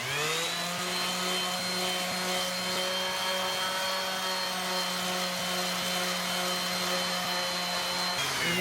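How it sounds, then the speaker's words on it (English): A dual action sander polishes the barrel of a 24.5-inch Alcoa aluminum truck wheel, a steady close whirring drone with an even tone held for about eight seconds before cutting off. "I'm gonna run a DA on that"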